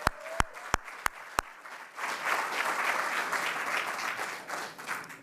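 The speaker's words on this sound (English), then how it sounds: "I want to give him a round of applause" Audience applause at the grand opening of The Lyndia, welcoming a Community Builders board member: a few sharp, separate claps first, then a steady, dense wave of clapping that holds evenly to the end.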